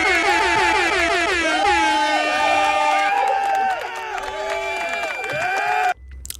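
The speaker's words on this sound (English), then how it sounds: "you know what they're about to get? An air horn." A loud, wavering air horn blares for about six seconds, with crowd noise beneath it, then cuts off abruptly.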